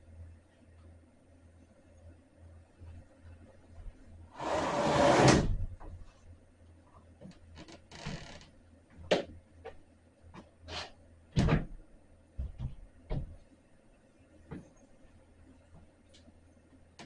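A porch door lying flat on the floor is gripped and lifted, giving a loud scraping rush followed by a few sharp knocks and thumps from handling, with no talking.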